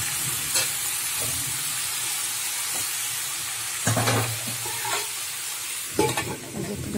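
Leafy greens cooking in a pan, a steady sizzle and hiss of frying with a few louder stirring scrapes and clatters, no talk.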